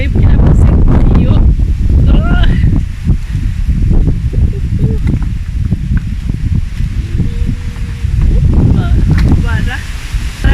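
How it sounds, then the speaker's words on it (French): Strong wind buffets the microphone in heavy low rumbles and gusts throughout, with rustling and faint voices or sounds breaking through now and then. "il y a beaucoup de vent"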